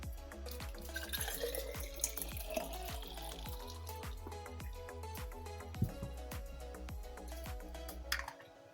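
Water pours into a small capped bottle, a steady trickle with drips and light tapping on plastic, close by with low background music and no talk.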